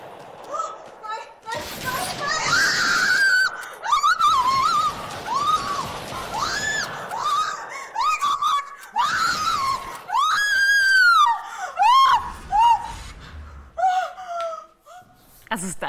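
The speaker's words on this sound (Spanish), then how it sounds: "sus desesperados gritos se apoderaron de la red" A woman screams desperately during a game, high frantic shrieks and wails recurring over about sixteen seconds, close and loud, with short gaps between outbursts and some talk mixed in.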